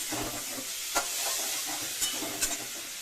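Shrimp frying lightly in a pan give a steady, soft hiss and sizzle, broken by a few brief clinks of stirring. The sound is fairly quiet and no one talks.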